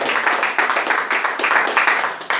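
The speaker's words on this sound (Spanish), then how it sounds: "Denle un aplauso al Señor" A church congregation applauds the Lord together, a dense, steady wash of many hands clapping with rhythmic surges, filling the room evenly throughout.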